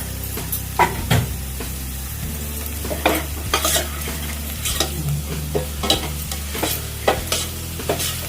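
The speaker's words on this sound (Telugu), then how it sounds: "కొంచెం మంచిగా వేయించుకోవాలండి." Dried red chillies and turmeric frying in oil in a pan make a close, steady sizzle. A spoon stirs them in repeated scraping, clattering strokes, and no one speaks.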